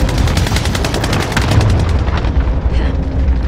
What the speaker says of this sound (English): Calling for airstrike on my target.